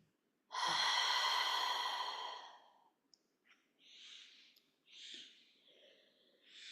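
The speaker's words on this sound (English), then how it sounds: "Taking a deep breath in" A deep breath drawn in and slowly released during a guided relaxation, one long, loud, airy inhale followed by quieter, softer exhalations, heard alone without talk.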